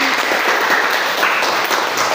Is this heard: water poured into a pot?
no